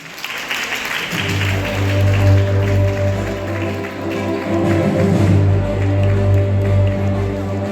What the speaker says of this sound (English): Can I get a big round of applause?